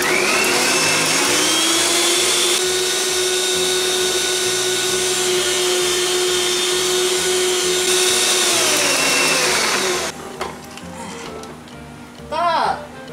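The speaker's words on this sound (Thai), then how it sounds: "เดี๋ยวตีสปีดสูงสุดเลยนะคะตีให้เนื้อของตัวเนยนะคะขึ้นฟูเป็นครีมเลยนะคะ" Electric mixer beating butter and sugar for a fruit cake at top speed, a loud steady motor whine for about ten seconds that then cuts off, with someone talking over it.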